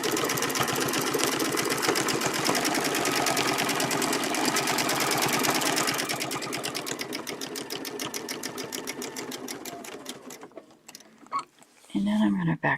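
A sewing machine stitches quilt feathers along a template with a fast, steady mechanical whir of rapid needle strokes that slows toward the end, stops, and gives way to a brief voice.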